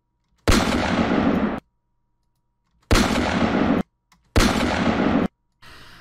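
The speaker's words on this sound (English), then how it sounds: "that sounds mid-range, like it was kind of, you know, 30 yards from you kind of gunshot" A fake gunshot sound effect, mixed to seem about mid-range, plays three times as loud sharp bursts, each ringing on for about a second before cutting to silence, followed by a quieter fourth burst.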